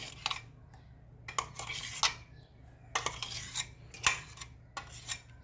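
A metal spoon scrapes thick guava chutney from a blender jar in repeated quick scrapes and clinks, loud and close, with short pauses between strokes.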